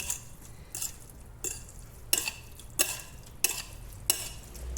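A pan of egg and noodles being stirred: a series of about seven evenly spaced scraping strokes of a utensil against the pan over a faint sizzle, close up and without talk.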